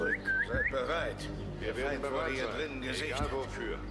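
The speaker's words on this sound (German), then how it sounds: "Wir pfeifen uns die noch ein Stück vor." Whistling used to lure a guard in Assassin's Creed Mirage, heard as several short rising whistle notes near the start, followed by game sounds and someone talking over the rest.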